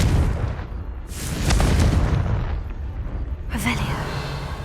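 A Confringo blasting spell goes off in Hogwarts Legacy, a loud, close explosive burst with a heavy roaring tail that swells midway, then a second sharp crack near the end.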